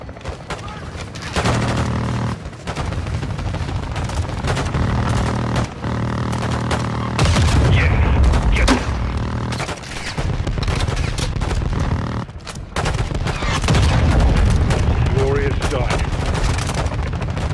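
Air strike explosions and heavy gunfire rage in a Call of Duty: Modern Warfare II battle, loud and dense throughout with booming blasts and rapid volleys, radio voices talking over the din.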